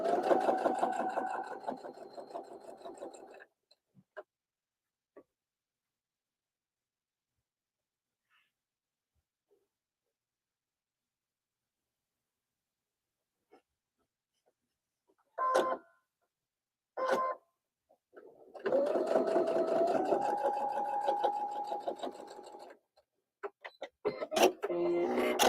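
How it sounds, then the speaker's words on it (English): A sewing machine stitches pieces in a chain in a quilting studio, running in loud close bursts of rapid mechanical whirring, separated by long silent pauses and a few short starts. "Love chain piecing because it makes it go faster."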